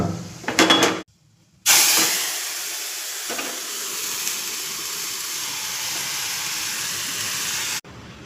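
Spice tempering (phodni) sizzles in hot oil for a steamed moong curry on a home stove, with a short clatter followed by a steady, fairly loud hiss that cuts off abruptly.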